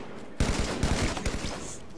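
Rapid gunfire from the Halo video game, with classic weapons in an online match, fires in a burst of sharp repeated shots for about a second and a half, loud and close under faint background voices.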